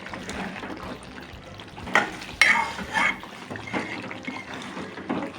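A vegetarian green jackfruit curry is stirred in a pot, making intermittent wet scraping and thick squelching strokes over a soft simmering bubble, moderately close, with a couple of sharper scrapes midway and no speech.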